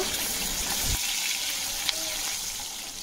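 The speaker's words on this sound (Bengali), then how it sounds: "মাছগুলোকে আমি এইরকম একটু হালকাভাবে ভেজে নিয়েছি" Katla fish fry in hot oil in a pan, giving a steady close sizzle with a soft clatter early on.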